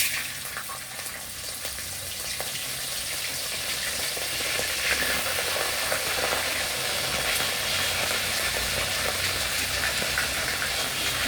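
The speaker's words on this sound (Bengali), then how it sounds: "এখন চিংড়ি মাছটা দিয়ে দিব।" Prawns frying in hot oil in a pan, a loud continuous crackling sizzle that builds slightly and then holds steady, with no one talking.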